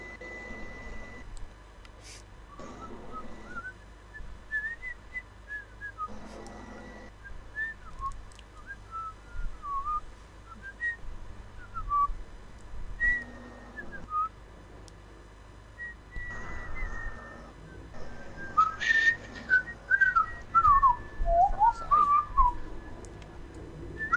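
Someone whistles a film theme tune, with wavering melodic phrases that rise and fall over about twenty seconds, fairly faint amid quiet computer game sounds and intermittent background noise.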